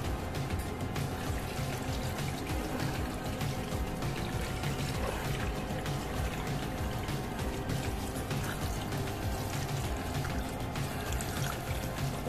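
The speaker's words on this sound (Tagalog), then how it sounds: "hugasan po muna natin yung paa." Running water washing chicken feet, a steady close splashing and pouring that continues unbroken for the whole stretch, with no speech.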